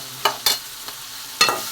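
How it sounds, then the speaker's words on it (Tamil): Tomato, onion and mixed vegetables sautéing in a pan for sambar, a low steady sizzle broken by a few sharp scraping stirs, close and fairly quiet with no talk. "இப்போ வந்து சாம்பாருக்கு வந்து எல்லா காயும் இப்போ வதக்கிட்டு இருக்கோம்."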